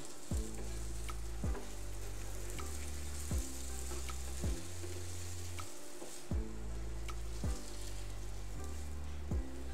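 Pointed gourd mashed with dried fish (chepa shutki) frying for bhorta in a pan, a soft continuous sizzle with regular scraping stirs over a low, steady droning tone.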